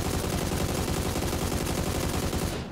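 AUG rifle gunfire in the video game PUBG, a rapid continuous stream of loud shots that runs unbroken for several seconds before cutting off abruptly.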